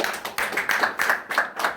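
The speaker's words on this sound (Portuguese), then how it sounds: "Você possa aceitar, aplaudindo ao Senhor." A church congregation clapping, a few bursts of close hand claps with short gaps between them and no voices.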